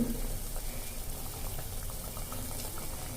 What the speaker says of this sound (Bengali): আমরা এইভাবে সব কটা স্যান্ডউইচ ভেজে নেব